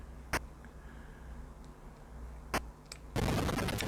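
Enemy gunfire in the Atari 8-bit game Ninja Commando: two or three sharp isolated shots over a low game hum, followed by a sustained loud burst of noisy crackle near the end.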